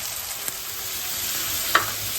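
Onion in hot oil on a griddle pan, a steady close hiss of frying and sizzling throughout, with a couple of light clicks from a utensil.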